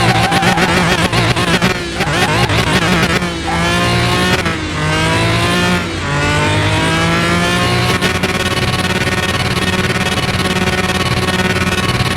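A McLaren F1 engine revs hard and pulls through rising gear changes at very high speed in Car Mechanic Simulator 2021, loud and close, then settles into a sustained high-pitched scream.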